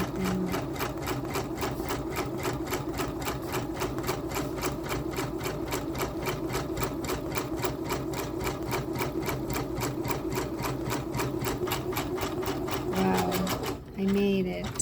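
A Janome MB4 embroidery machine runs slowly with a steady, evenly pulsed mechanical chatter, close and continuous for the whole stretch, briefly pausing near the end; a voice can be heard faintly underneath.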